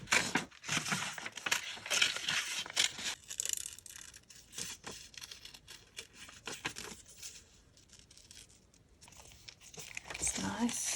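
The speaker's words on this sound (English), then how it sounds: "Let's cut some of these flowers." Paper flower shapes being cut out for a junk journal folio, with scissors snipping and paper crinkling in close, irregular bursts over a quiet craft table, under intermittent talk.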